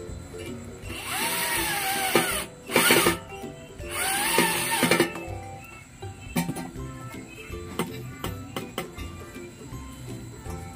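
A power drill drives a screw into a used-oil stove, giving two whining bursts, each rising in pitch, followed by quieter clanks and taps, with a person speaking partway through.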